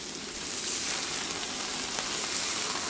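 Cauliflower dropped into a hot wok fries with a loud, steady sizzle, a dense continuous hiss that holds evenly throughout.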